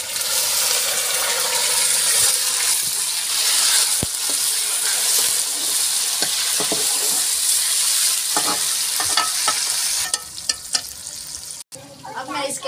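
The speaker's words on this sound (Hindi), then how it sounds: "अब इसके अंदर टमाटर डाल देती हूँ ताकि ये प्याज जो है चल ना जाए।" Tomatoes tossed into frying onions in a pan for chicken biryani, giving a steady loud sizzle with a spoon scraping and stirring, occasional clinks, close up and continuous.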